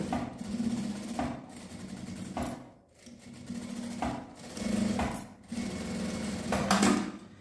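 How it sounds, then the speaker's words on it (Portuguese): A sewing machine runs in steady bursts as it stitches along the edge of a fabric pocket for a small handmade gift. The hum is close and fairly loud, broken by short pauses, with no talking. "Uma costurinha bem na beiradinha aqui pra segurar esse bolso."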